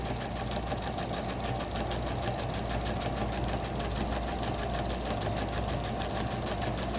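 Sewing machine stitching a straight line on paper, a continuous rapid mechanical chatter of the needle at a steady even pace, close and constant throughout with no talking.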